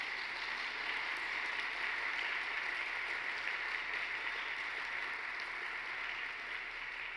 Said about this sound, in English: you can clap for that, sure.